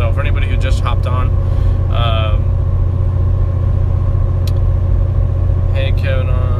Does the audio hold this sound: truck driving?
yes